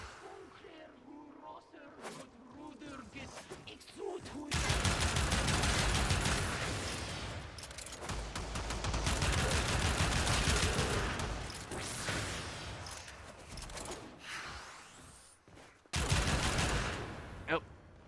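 Pyrana Prime shotgun fire in Warframe live combat, with dense rapid bursts of blasts and booms over about twelve seconds, then a pause and a last loud salvo.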